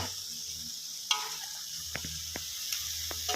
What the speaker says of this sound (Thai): ผัด คลุกเคล้าไปสักพักครับผมแล้วเราก็ ตักขึ้นเลยนะครับ